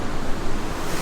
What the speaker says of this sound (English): You just keep hearing the thunder of the waves and then it does that